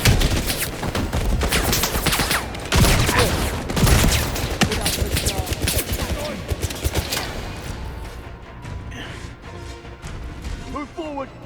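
Dense, rapid gunfire rattles through a firefight in a 007 video game, with bursts packed tightly over the first several seconds before thinning out, while voices shout throughout.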